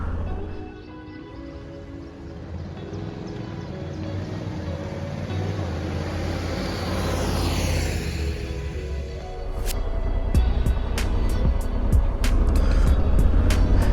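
Honda Africa Twin 1100 motorcycle pulling away on the roads of Tenerife, a steady low engine rumble that swells as it builds speed, with sharp clicks and ticks breaking in near the end.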